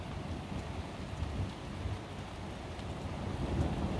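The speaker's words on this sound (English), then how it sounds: "We are dead centre of this storm, and it has not moved." A thunderstorm over south-east England brings steady rain with low rumbles of thunder rolling underneath, a constant dark wash of sound with no voices.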